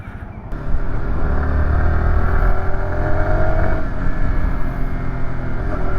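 Yamaha YZF-R125 motorcycle exhaust during a ride, a steady loud drone holding near and constant after a brief quieter start, with wind rush underneath and no talking.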